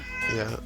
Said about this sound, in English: Mocha's meowing at me again